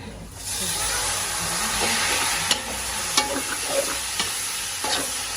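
Vegetables sizzling steadily as they sauté in a cooking pot, with a bright hiss and several sharp clacks of a spoon being stirred against the rim, and no voices.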